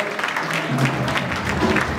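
A church congregation applauds during a Sunday service, a dense burst of clapping from many hands, moderately loud and steady for a couple of seconds.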